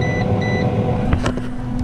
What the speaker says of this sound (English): There's our timer we was waiting for.